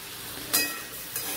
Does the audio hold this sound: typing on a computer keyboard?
no